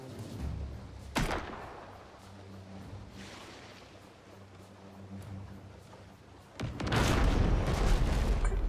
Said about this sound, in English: What cannon is that?